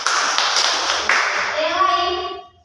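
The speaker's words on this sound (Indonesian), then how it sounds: "tepuk tangan" Children in an elementary school Indonesian-language class clap together briefly, a dense burst that fades as a voice rises at the end.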